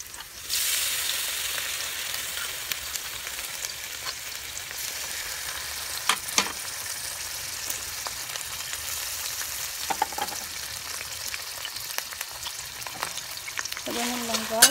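Garlic sautéing in a pan, a steady hiss of frying with occasional clinks and stirs, fairly close, with brief speech near the end.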